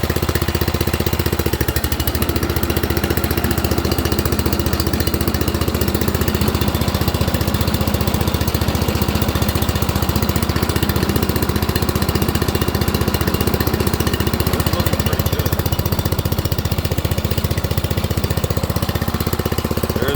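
An engine idles at low speed, its steady loud mechanical chugging running without pause, close up with no voices.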